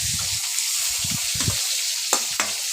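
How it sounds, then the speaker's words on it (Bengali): Vegetables including ridge gourd, potato and bottle gourd peel fry in a pan of hot oil with five-spice and a dried red chilli, giving a steady close sizzle broken by low stirring scrapes and a few sharp clinks of a spatula. "এবার সবজিগুলো সব দিয়ে দিচ্ছি ভাজা করার জন্যে"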